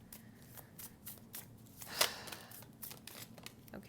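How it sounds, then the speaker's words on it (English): A deck of tarot cards is shuffled by hand in a quiet room, with a series of soft riffling and sliding bursts and one sharper snap near the middle. "This deck is really hard to shuffle,"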